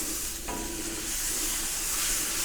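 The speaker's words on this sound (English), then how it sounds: "So you can see with the heat that it's medium high because the butter is almost brown." Butter sizzling and browning in a hot pan over medium-high heat for black butter stingray, a close, steady, hissing fry with a faint higher whine, no voices.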